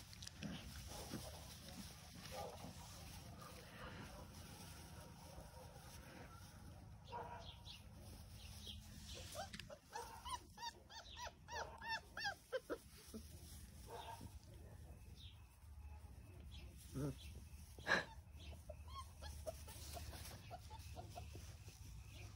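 Four-week-old black male McBunn puppies whimpering and yipping in short, faint bursts, with scattered squeals and barks over a quiet indoor background.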